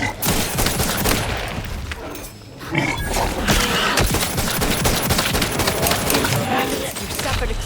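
Dense, loud gunfire in the video game The Outer Worlds 2, rapid overlapping shots and bursts from several weapons forming a continuous battle din with a short lull partway through.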